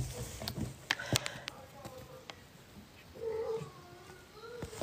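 A cat meows and yowls in a few short cries among scattered clicks and thumps, moderately close, with brief human voices in the background.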